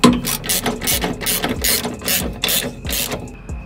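A ratchet clicks rapidly in repeated bursts while tightening a bolt and nut on BC Racing coilovers for a Toyota Celica, the pawl chattering loudly and close up.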